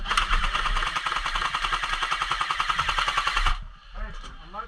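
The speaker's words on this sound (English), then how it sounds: "There's somebody shooting through that window right there of that shack right there." Airsoft guns fire in rapid, rattling bursts during an outdoor team game, a steady clattering stream that runs close and loud for several seconds before cutting off, with a voice talking underneath.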